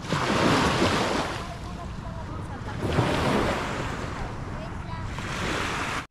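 Sea waves rolling and crashing onto a beach at Placas Beach Resort, Sariaya, Quezon, in loud repeated surges, with wind noise across the microphone throughout.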